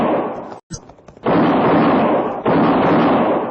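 Gunshot sound effects in an old west radio drama, a sharp crack followed by scattered pops and then loud sustained blasts and rumble, with a voice heard briefly.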